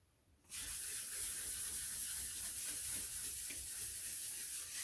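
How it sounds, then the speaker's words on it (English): Steady abrasive hiss of sandpaper rubbing back and forth on the lid of a vintage radio, starting abruptly and continuing evenly, close and fairly loud. "So we'll get this lid ready and I'll do some sanding."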